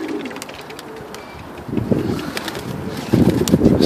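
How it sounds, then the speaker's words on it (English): Young pigeons let out of a loft coo softly, then bursts of flapping wings grow louder as birds take off, with breezy outdoor ambience behind. "See, I got a lot of birds to let out, man."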